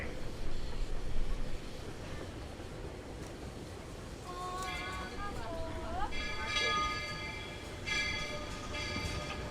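A Walt Disney World Railroad train rolls into Main Street Station at Magic Kingdom, its steady rumble rising to a high metallic brake squeal midway that carries on over continuous background noise.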